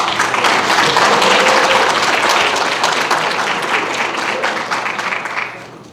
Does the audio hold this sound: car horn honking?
no